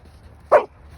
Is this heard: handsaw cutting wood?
no